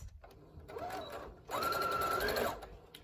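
A sewing machine stitches a face mask seam in two short runs, its motor whirring and needle buzzing evenly up close, the second run longer and louder.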